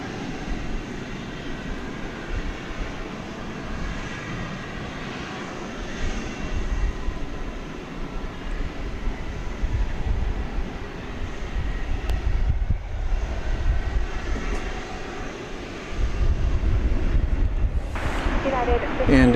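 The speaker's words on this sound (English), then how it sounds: "flight 2496 American Airlines from Portland, Oregon, an Airbus A321" American Airlines Airbus A321 jet arriving at DFW at night, a steady broad engine rumble with the roar building louder toward the end, mixed with faint background airport noise.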